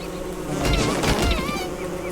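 Angry bees swarming from a beehive struck with an axe in Don't Starve, a loud, dense, continuous buzzing drone that swells briefly in the middle.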